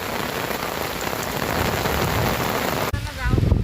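Heavy rain with strong wind pours down steadily with a dense hiss, briefly dipping near the end as a low rumble and gusty noise come through.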